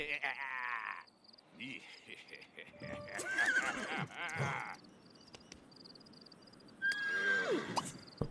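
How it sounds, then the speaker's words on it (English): A horse in The Sims 3 whinnies and snorts in a few drawn-out, fairly faint calls among quiet game sounds and other noises. "I don't know why nobody will ride this damn horse"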